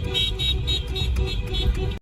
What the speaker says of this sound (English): They follow and honk.